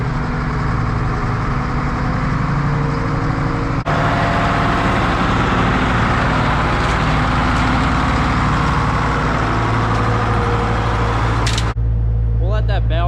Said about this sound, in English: We'll let that bale grind up for about 10 minutes here